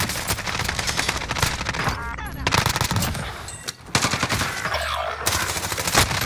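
Rapid automatic gunfire from a turret in a video game, loud dense bursts of machine-gun fire filling most of the clip with brief gaps, amid game sound effects.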